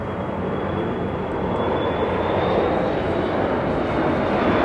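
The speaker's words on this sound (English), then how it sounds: "I assure you the flight pattern does change. It will get much quieter." Airplane flying overhead at Fort Mifflin, a loud, broad roaring engine wash that builds steadily, with no voices over it.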